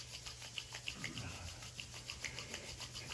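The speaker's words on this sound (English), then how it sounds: "So just rub your palms together and get them really nice and warm." Palms rubbed briskly together to warm them, a soft, quiet, rhythmic friction heard close up with no talking.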